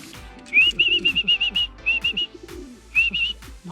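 Pigeons circle overhead, with low soft cooing mixed with repeated high thin whistling notes coming in short clustered bursts, fairly near and clear.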